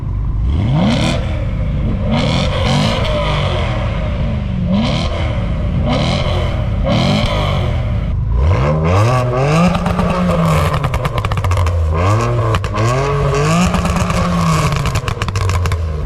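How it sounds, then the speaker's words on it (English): A BMW 335i with the N54 engine and an E92 M3 with MPE exhaust and heavy modifications trade loud, close revs, sharp repeated blips rising and falling, then a longer run of sustained sweeping revs, with no talk. "Let's do a little rev off. 335i N54 versus E92 M3, MPE exhaust"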